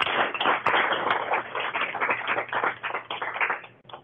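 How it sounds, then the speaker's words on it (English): Conference attendees at Get The Dirt Conference 2023 applaud Daniel Mays of Frith Farm. The steady clapping sounds thin and band-limited, as if heard over a remote call line, and dips briefly near the end. "let's give Daniel a round of applause"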